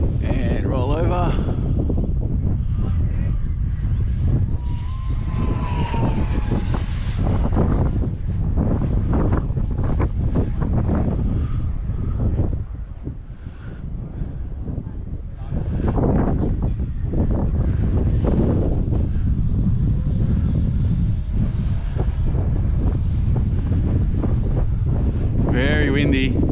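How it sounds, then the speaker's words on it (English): Strong wind buffets the microphone in a continuous loud roar for the whole stretch, dipping briefly midway, with faint voices beneath. "It's very windy."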